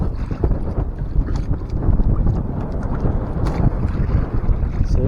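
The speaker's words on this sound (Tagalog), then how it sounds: "Lakas ng hangin." Strong wind buffeting the microphone on a boat during a fishing trip at sea, a constant gusty rumble with rough choppy surges and no voices.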